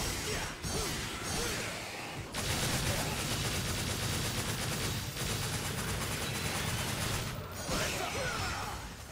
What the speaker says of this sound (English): I did shoot him like 100 times